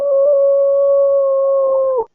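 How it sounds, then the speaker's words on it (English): A dog's long, steady howl played back from a phone recording, loud and close, holding one sustained tone for about two seconds before cutting off abruptly, with no talk over it. "dog started barking and going crazy"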